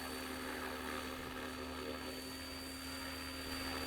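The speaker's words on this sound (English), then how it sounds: "the tail motor is pushing right, and it's going to push the heli left" A SAB Goblin Buddy 380 RC helicopter lifts off for its maiden flight, its rotor and tail motor giving a steady, close, continuous whine and hum with no pauses across the few seconds.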